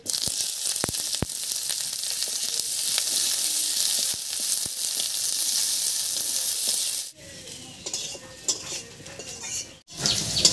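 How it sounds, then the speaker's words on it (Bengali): Chopped onion, a large one, sizzles in hot mustard oil in a wok while a Bangladeshi dried-fish and potato curry is made, a steady loud frying hiss with a few utensil clinks, dropping quieter near the end after stirring. "তেল গরম হয়ে গেছে, তেলের মধ্যে দেবো একটা বড় সাইজের পেঁয়াজ কুচি।"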